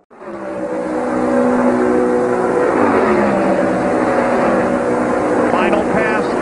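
An Indy race car screams down the front stretch at the Indianapolis 500, a loud, sustained engine whine rich in harmonics that climbs slightly in pitch and holds steady for several seconds.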